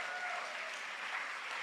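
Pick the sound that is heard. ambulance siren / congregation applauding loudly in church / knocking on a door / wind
congregation applauding loudly in church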